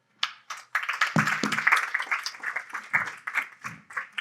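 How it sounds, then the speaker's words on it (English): An audience at a SXSW 2023 panel session applauds a speaker, producing a scattered run of moderately loud hand claps in irregular bursts that thin out over a few seconds. "Please give a warm round of applause"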